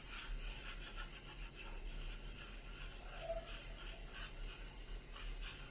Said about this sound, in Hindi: अच्छा लादर बन रहा है।